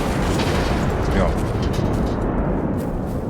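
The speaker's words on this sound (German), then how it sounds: "wem zu wenig Explosionen hier sind, da bitte hast du eine" A big explosion in the video game Generation Zero, a heavy roaring blast that fills the whole stretch with a dense rumbling wash, loud and sustained.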